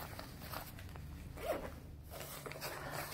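A jumpsuit zipper is pulled closed, a quick rasping zip of short scratchy bursts, close and fairly quiet, with no talking over it.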